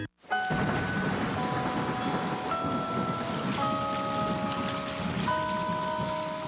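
Steady, heavy rain pours down on surfaces in a commercial, a dense, even hiss that fills the whole stretch with no break, while faint sustained tones ring quietly beneath it.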